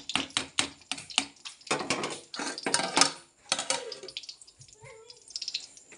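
Vegetables and rice, with beans added, are stirred in a cooking pan: a close run of rapid scraping and rattling strokes that thins out into quieter, sparser clinks near the end.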